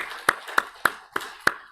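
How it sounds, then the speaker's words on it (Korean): In a church, five distinct hand claps land in an even rhythm roughly a third of a second apart, close and crisp with little reverberation. "찬양을 받으신 하나님께 영광의 박수를 올려드리겠습니다."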